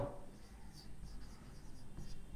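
A teacher writing during a class, faint scratchy strokes of writing against a quiet room background, no speech.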